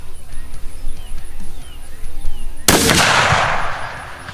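A single rifle shot fired free recoil goes off loud and close partway through, its sharp crack followed by a decaying boom and outdoor echo, after a stretch of low background rumble.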